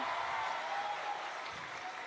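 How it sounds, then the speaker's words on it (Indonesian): An audience at a public lecture claps for Anies Baswedan, a brief, steady wash of applause with no clear start or finish. "Mana tepuk tangannya untuk Bapak Anies Baswedan?"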